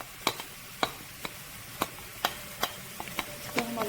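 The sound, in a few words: chopped onions frying in hot oil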